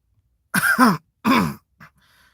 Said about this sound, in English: some coughing,